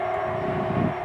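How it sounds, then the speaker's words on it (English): A passing train near a rural Norfolk church, heard as a steady, fairly loud rumble with a sustained tonal drone throughout, no talking over it. "there goes the train."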